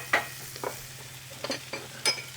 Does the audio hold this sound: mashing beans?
yes